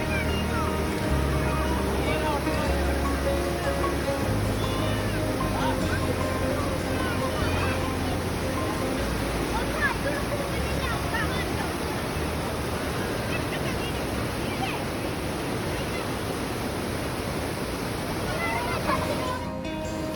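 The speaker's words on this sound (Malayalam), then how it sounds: "കെട്ടി നിർത്തിയതിൻ്റെ അവിടുന്ന് വെള്ളം ഇങ്ങനെ ഒഴുകുന്നത് എന്താ പറയുക, ഒരു വെള്ളച്ചാട്ടം ചാടുന്ന പോലെയാണ്" River water pours over the Kalikavu Kettungal check dam in Malappuram like a waterfall, making a loud, constant roar that holds evenly for the whole stretch with no voices.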